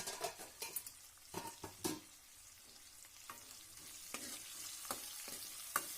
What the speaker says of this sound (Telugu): టమాటా ఒక 2 మినిట్స్ ఫ్రై చేసుకోండి.